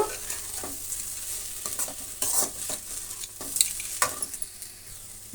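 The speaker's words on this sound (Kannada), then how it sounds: "ಅದೇ ಆಲೂಗಡ್ಡೆನ ಕೂಡ ಸೇರಿಸ್ತಾ ಇದ್ದೀನಿ ಪೊಟಾಟೊ ಎಲ್ಲ ಇಂಗ್ರೀಡಿಯೆಂಟ್ಸು ಸ್ವಲ್ಪ ಚೆನ್ನಾಗಿ ಫ್ರೈ ಆಗಬೇಕು" Potatoes and other ingredients frying in a pan, with a steady close sizzle under repeated scraping stirs from a spatula. Irregular strokes continue throughout and no one speaks.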